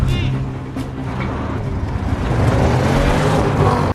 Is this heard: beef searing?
no